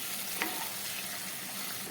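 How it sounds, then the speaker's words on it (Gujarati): Spice tempering for patra sizzles softly in a pan after a splash of water, a faint steady crackling hiss with no voices. "હવે આપણે વઘારને સારી રીતે પાકવા દેશું"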